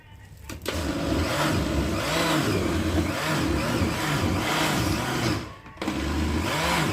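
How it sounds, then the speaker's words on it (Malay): An electric blender whirs steadily while mixing fishing bait pellets for freshwater ponds, a loud close motor drone with a rhythmic churning pulse, briefly dipping near the start and again near the end before resuming. "Saya akan blender sekali ya."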